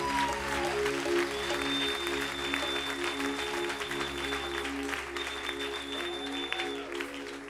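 A church congregation applauding to acclaim Jesus, sustained clapping from many hands over a steady hum of background music.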